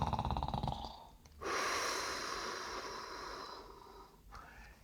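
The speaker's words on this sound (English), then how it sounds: "but the bear snores on" A sleeping bear snores in its den, one long, loud, rasping breath that follows a quieter breathy stretch.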